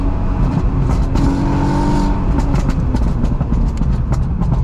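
Loud, steady engine and road noise surrounds the cabin as a Volkswagen Golf R MK7 with a Stage 2 tune drives along a twisting road, a constant droning rumble with brief tonal swells and no talk.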